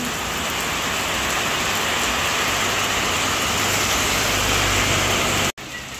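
Heavy rain pours down in a continuous, dense roar at close range and holds steady throughout before cutting off abruptly near the end.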